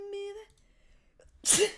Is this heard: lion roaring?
no